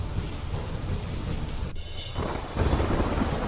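Heavy monsoon rain pours steadily in flooded Madhya Pradesh, a dense roaring hiss with thunder rumbling low underneath and growing louder near the end.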